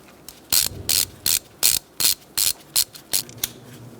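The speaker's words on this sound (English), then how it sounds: "Next, we're going to use a 10mm socket and undo this bolt." A ratchet with a 10mm socket undoing a bolt on a 2012-2017 Hyundai Accent 1.6L four-cylinder makes about ten crisp, evenly spaced clicking strokes, close and loud, with no talk.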